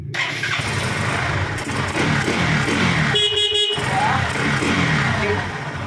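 A Bajaj Pulsar NS160 motorcycle, converted from fuel injection to a carburetor, rumbles loudly and steadily up close, with a brief starter whir cutting in midway before the engine settles into a running idle.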